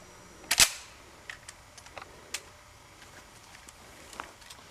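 A single loud, sharp gunshot cracks near the start, followed by several faint scattered pops and clicks in an otherwise quiet outdoor scene.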